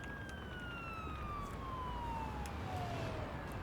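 An ambulance siren in the paramedic simulator game Ambulance Life wails with a single steady tone that slowly falls in pitch. It holds over a constant wash of road and engine noise, with no talk.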